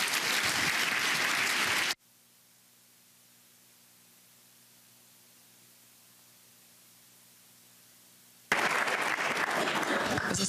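Audience applause at a scholarship leadership breakfast, a dense burst of clapping for about two seconds, then a near-silent gap with faint hum before the loud clapping resumes.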